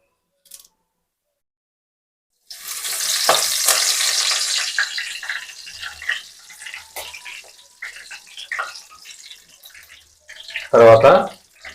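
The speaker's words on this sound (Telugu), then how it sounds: "తిరగమాత గింజలు చిటపడాన తర్వాత కరివేపాకు రెమ్మలు ఒక రెండు" Tempering seeds splutter and curry leaves fry in hot oil: after brief silence a loud sizzling burst erupts and gradually fades into softer crackling, with a sharp loud spatter near the end.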